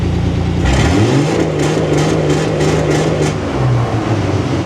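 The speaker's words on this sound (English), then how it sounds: "This time we have it on the fuel rev limiter with the ignition rev limiter kicking in afterwards." The engine of a vintage off-road wrecker with EFI revs hard and holds against its fuel and ignition rev limiters, a loud, close, sustained roar with a rapid stuttering pulse as the limiter cuts in.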